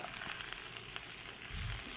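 Steady crackling sizzle of food frying in hot oil with curry leaves, a dense hiss with small pops throughout, slightly louder toward the end.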